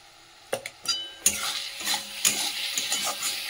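Spice paste of coriander powder and chili being stir-fried in a pan, with several sharp clinks of a utensil scraping the metal over a soft, faint sizzle.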